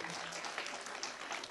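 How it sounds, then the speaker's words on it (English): Applause from an audience at the closing ceremony of a summer sports camp, a dense steady patter of many hands clapping without pause. "So a big round of applause to Savio."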